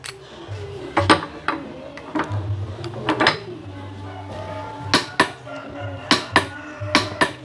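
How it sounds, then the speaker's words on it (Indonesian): Cordless impact driver loosening a 32 mm bolt in a torque test, with rapid bursts of loud hammering impacts alternating with short pauses and brief motor whirs. "untuk uji torsi di sini kita akan coba membuka ini baut 32 ya"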